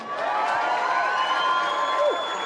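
Crowd applause and cheering at the podium ceremony of the 2017 Hi-Tec Oils Bathurst 6 Hour at Mount Panorama, a steady roar of clapping with whoops and high shouts rising over it, fairly loud and sustained.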